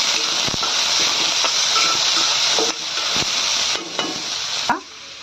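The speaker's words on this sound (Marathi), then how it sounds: "झाला कढीपत्ता, हे छान परतून घ्या।" Curry leaves and spices fry in hot oil in a pan, giving a loud, dense sizzle and hiss broken by sharp scraping stirs that gradually thins out and fades toward the end.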